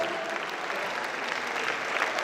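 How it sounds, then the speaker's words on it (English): Steady audience applause for a keynote speaker at a national pharmaceutical conference, an even wash of many clapping hands heard from a distance, sustained without pause. "A round of applause, please, for our keynote."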